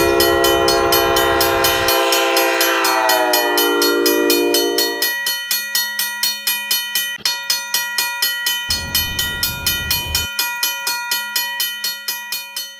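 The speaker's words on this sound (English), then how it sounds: "Next up is CN8100, and with I think K5HLA or K5HL horn." Simulated horn of CN 8100 with a K5HLA-style five-chime horn for a train animation: a loud sustained multi-tone chord that bends and shifts pitch, then a steady mechanical bell clanging in regular strokes, with a second short horn blast near the end.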